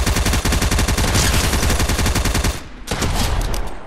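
Pump shotgun in Fortnite Mobile fires over a dense run of rapid gunfire that cuts out briefly near the end, then resumes. Loud, close and continuous, with no talk.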